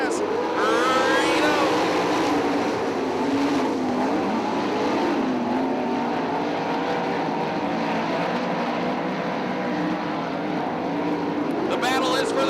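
Several 410 sprint cars roar on throttle together at Attica Raceway Park after a single-file restart, a loud continuous engine blare under commentary that lasts throughout.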